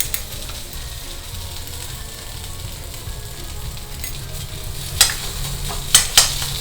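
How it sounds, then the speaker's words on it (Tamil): A ladle pokes and stirs mashed potato in a pan with salt, giving a soft, steady frying hiss and a few sharp metallic taps near the end. "நல்லா கரண்டிலே அப்படி குத்தி குத்தி மிக்ஸ் பண்ணிவிடுங்க."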